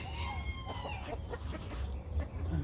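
Several chickens in a pen cluck and murmur nearby amid low background rumble, with a short crowing-like call early on; no one speaks.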